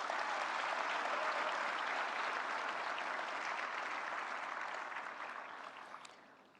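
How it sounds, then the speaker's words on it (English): Sustained applause from a large audience at the Pax Silica summit, a dense, steady wash of clapping that holds evenly and then fades gradually over the final seconds. "Give a big round of applause for the entire team which has worked for it."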